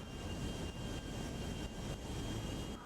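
A steady, loud airplane engine drone from GTA 5, a continuous roaring rush with a thin high whine running through it, holding even with no pauses.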